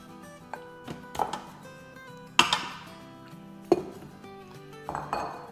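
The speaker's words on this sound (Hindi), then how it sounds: "तो इसको हम अपने कुकर में डाल देंगे।" Bone-in mutton leg pieces dropped into a metal pressure cooker, several clanking metallic thuds and clinks at irregular intervals, close and fairly loud with ringing pot resonance.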